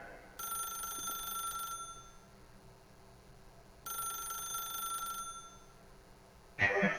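Telephone in The Stanley Parable rings in two evenly spaced bursts, each lasting over a second with a pause between, loud and close, followed by a short sharp noise at the end.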